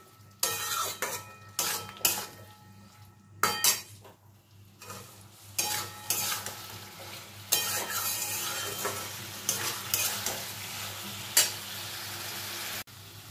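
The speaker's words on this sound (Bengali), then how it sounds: "আলু পটল দিয়েও আমি কিছুক্ষণ মশলার সঙ্গে কষিয়ে নেব।" Fried potato and pointed gourd are stirred through masala in a pan, with a low sizzle under repeated scraping and clattering spatula strokes on the metal at an uneven rhythm.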